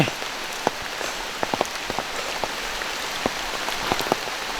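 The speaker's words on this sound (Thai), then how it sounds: "ฝนตกขนาดนี้นะครับ" Heavy rain falling in a mountain rainforest, a dense, loud, continuous hiss punctuated by frequent close drops striking leaves and surfaces.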